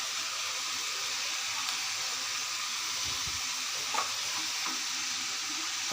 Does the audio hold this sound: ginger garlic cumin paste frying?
yes